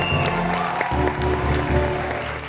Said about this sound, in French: Applaudissez Poupou,